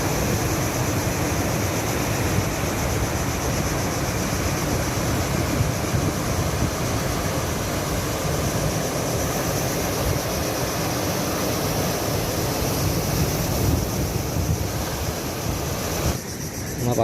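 Rough, muddy brown sea waves wash in on a windy shore between Kuching and Bintulu, a constant broad roar of surf and wind that runs unbroken and fairly loud.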